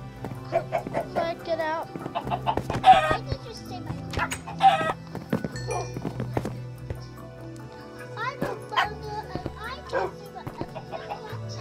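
Video game chickens cluck and squawk in repeated short bursts, fairly close and clear, mixed with other animal sounds and background game noise while people talk over them.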